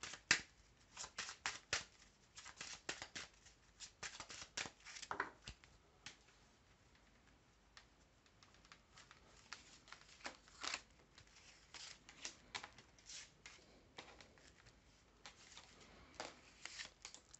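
A deck of cards is shuffled and cut close up, with quick bursts of riffling flicks and soft slaps that come in irregular clusters, separated by quiet gaps.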